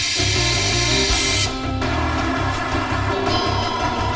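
An air wrench runs on an aircraft in a hangar, a steady loud whirring drone that shifts pitch partway through as the tool works.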